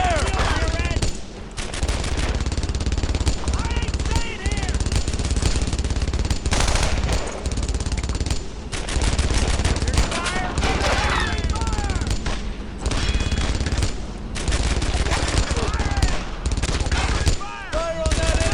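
Sustained bursts of MG42 machine gun fire and other gunshots in a World War II battle from Brothers in Arms: Earned in Blood, loud and rapid, with short pauses between volleys and no clear talk.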